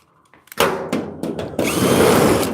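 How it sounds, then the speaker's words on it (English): A power drill unscrews screws from a 1938 Cadillac body panel in a shop, with several short loud motor bursts followed by a longer sustained whir, close and without talk. "So let's unscrew it, put that into position."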